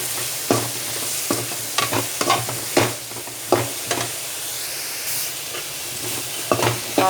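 Mushrooms fry in hot oil in a pan for a restaurant-style mushroom masala, a constant sizzle broken by frequent sharp scrapes and knocks of a spoon stirring the pan, close by with no talking.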